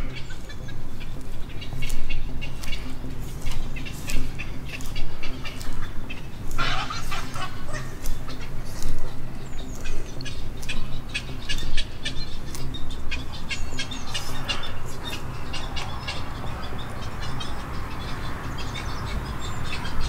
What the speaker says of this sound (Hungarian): Madarak vannak, itt költenek